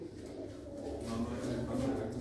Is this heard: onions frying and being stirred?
no